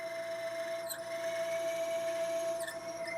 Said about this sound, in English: First drill hole, this is going to go all the way through.